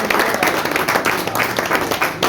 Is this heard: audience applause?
yes